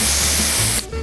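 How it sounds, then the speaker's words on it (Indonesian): A cartoon aerosol can sprays hair dye in one loud, steady hiss lasting just under a second before cutting off abruptly, leaving a low residual hum. "sepertinya itu pewarna rambut, bukan semprotan rambut"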